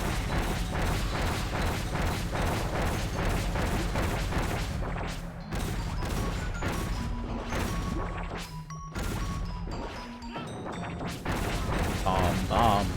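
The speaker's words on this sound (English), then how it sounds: "Explosions! So many explosions!" Kirby Star Allies explosions and crashes sound in constant dense bursts, loud and chaotic throughout, with brief dips before the blasts pick up again.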